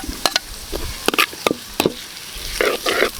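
Onion hits hot cooking oil in a pan with ginger and garlic, giving short sizzling bursts and stirring scrapes, close and moderately loud.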